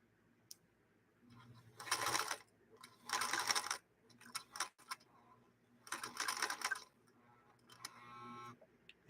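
A sewing machine fitted with a leather needle stitches through stain-resistant upholstery fabric in several short, loud bursts of rapid mechanical whirring, separated by quiet pauses and small clicks.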